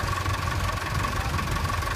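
A 1966 Nuffield 1060 tractor at a tractor parade, its engine idling with a steady low throb and faint mechanical knock, continuous and fairly close.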